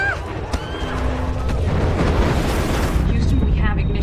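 A rocket ignites at the end of a recorded launch countdown, a loud, sustained roaring rumble building and holding steady, with voices calling out over it.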